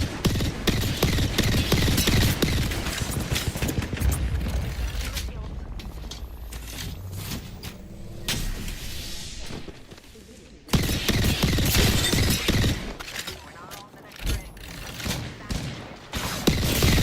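Gunfire bursts and a grenade blast in a video game sound in dense rapid volleys over busy game noise, easing to a quieter stretch before loud firing resumes, with a player talking throughout.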